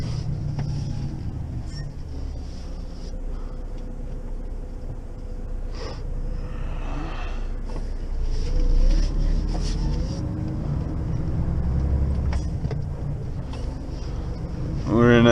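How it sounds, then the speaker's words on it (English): A Volvo FH12 6x2 truck engine, pulling a 3-axle drawbar trailer of straw bales, rumbles low and steady from inside the cab, growing louder partway through, with occasional faint voices. "Volvo FH12 6x2 with a 3-axle drawbar"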